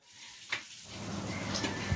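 Onions frying in a pan for chicken curry, a soft close sizzle that starts faint and builds steadily, with a light clink early on and no voices.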